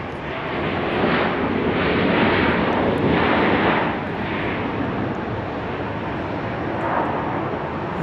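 An airplane arriving at Dallas Love Field Airport, a loud, broad engine roar that swells and pulses steadily and then eases slightly as it passes nearby, with no talk.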